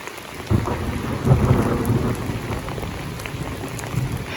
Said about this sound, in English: but it rained all day today.